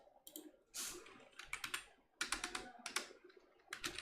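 Typing on a computer keyboard, bursts of quick close clicks and key taps in irregular clusters separated by brief quiet gaps.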